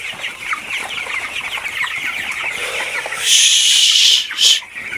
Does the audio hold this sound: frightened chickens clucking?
yes